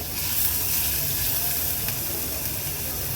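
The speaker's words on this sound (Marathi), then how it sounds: "तेल गरम झालंय आता आपण ह्यात हे आलं लसूण क्रश आहे ते ॲड करणार आहोत थोडंसं परतून घ्यायचं आहे" Crushed ginger and garlic paste sautéing in hot oil in a pan, giving a steady, loud, close sizzle and hiss that holds evenly throughout with no talk over it.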